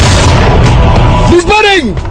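Musket volley in a dramatized Battle of Lexington, a loud booming burst of gunfire up front followed by a shouted voice rising and falling as the shots fade.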